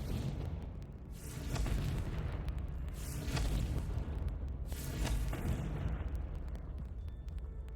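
Bombarda and Confringo spells burst in Hogwarts Legacy with three heavy, booming blasts a couple of seconds apart, each trailing off into a rumble.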